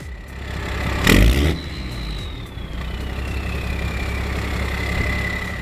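A 1996 Ram 3500 pickup with a 12-valve Cummins diesel, 376,000 miles and a 5-inch exhaust, cranks and fires with a loud burst, then settles into a rough, throaty idle and rev with a whining tone rising and falling above it.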